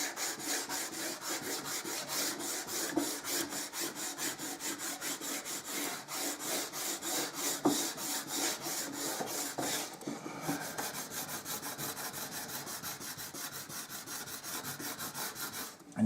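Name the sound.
burnishing a wood inlay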